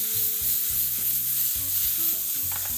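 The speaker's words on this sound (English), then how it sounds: "I'm using this to kind of lift all those caramelized bits off of the bottom of the pan and mix them with the onion." Veal stock deglazes caramelized onions in a pan, a loud continuous sizzle under steady scraping and stirring strokes from a utensil, close up, with no voices.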